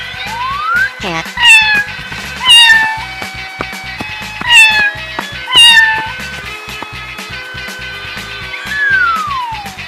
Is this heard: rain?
no